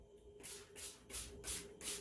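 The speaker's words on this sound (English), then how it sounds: "put into the bottom and moisten them down with a spray bottle." A spray bottle mists water onto paper towels at the bottom of a plant container, giving four quick hissing bursts in a steady rhythm, close and fairly quiet.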